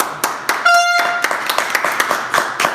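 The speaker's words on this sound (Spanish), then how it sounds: "Un aplauso, señor." Sharp, uneven hand claps ring out in a podcast studio, a handful of distinct claps spaced irregularly with a brief tonal beep early on.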